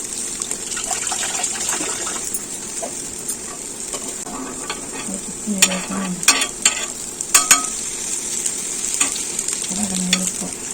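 Chandrakanthalu sweets frying in ghee give a steady crackling sizzle, close and fairly loud, broken by sharp clicks and scrapes of a spoon turning them in the pan.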